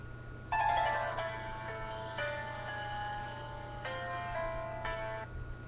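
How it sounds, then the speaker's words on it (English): A phone ringtone plays a bright, bell-like electronic melody of sustained ringing notes, close and fairly quiet over a steady low hum, lasting several seconds with no talking. "No, this is the best freaking ringtone ever."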